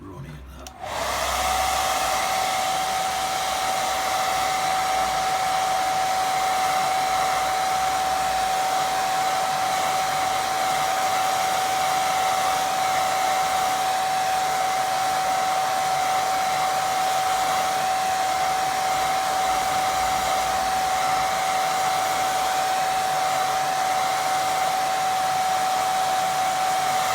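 Hair dryer drying a watercolour painting, switched on with a click and then blowing as a loud, steady whirring roar with a constant whine, close and unbroken for the whole stretch.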